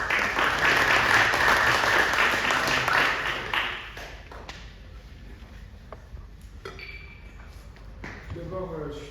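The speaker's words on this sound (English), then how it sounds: "So let's give a round of applause to Benoît over here." A meetup audience at a tech pitch event applauds: dense, loud clapping from a crowd that fades after a few seconds into scattered claps, with talk rising afterward.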